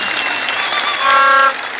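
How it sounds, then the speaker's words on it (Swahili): A thanksgiving church congregation applauds a gospel singer, a dense wash of clapping with a brief horn-like tone swelling in the middle before dropping back. "Pigie Mwebrania makofi mazuri"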